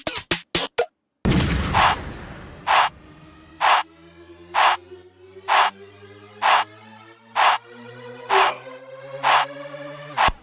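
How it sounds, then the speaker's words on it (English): Sharp gunshot sound effects repeat at an even rhythm over a hybrid trap electronic music bed with a low sustained bass, loud and punchy. "and then add some gunshots here."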